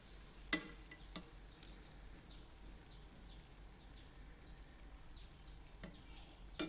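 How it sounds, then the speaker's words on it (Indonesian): Meat sautéing in a pan for a Minang beef curry, a faint soft sizzle with a few sharp clinks of a utensil against the pan, no talk. "kita tumis dagingnya"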